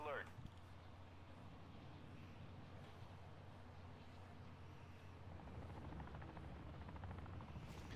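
A helicopter in the Call of Duty DMZ video game, dropping AI soldiers, whirs steadily at a distance beneath people talking, growing a little louder toward the end.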